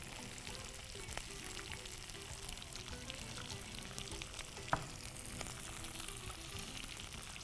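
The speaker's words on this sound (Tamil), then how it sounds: "போட்டு நல்லா வதக்கு. பச்சை பட்டாணி," Green peas and chilli powder sizzle steadily in a hot pan, a continuous close frying hiss with occasional stirring scrapes and one sharp clink of a utensil, no voices.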